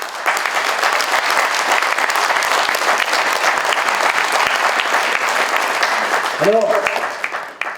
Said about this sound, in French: C'est une personnalité généreuse qui se retire et que nous pouvons vraiment remercier et applaudir,